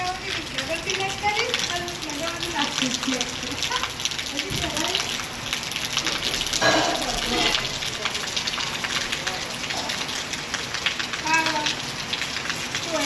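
Heavy rain pours steadily outside a house during a thunderstorm, a dense continuous hiss and patter that stays loud throughout while voices talk over it.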